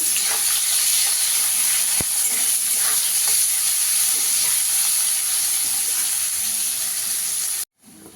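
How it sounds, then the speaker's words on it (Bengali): Chopped onions frying with whole cumin in a pan, giving a steady, loud sizzle with a few light stirring ticks that cuts off abruptly near the end. "পেঁয়াজটা একটু লাল লাল করে ভেজে দেবো।"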